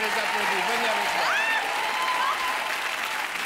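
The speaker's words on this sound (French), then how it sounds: "Oui, toi, Philippe, toi aussi, on les applaudit" An audience at a televised magic show hosted by a TV host claps for volunteers in a steady, dense wash of applause that fills the whole moment, with voices and scattered whoops carrying over the top.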